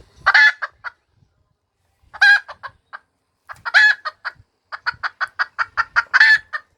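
A rooster crow from an electronic bird caller sounds several times in loud, clear bursts, followed by a rapid run of clucks, against an otherwise silent background.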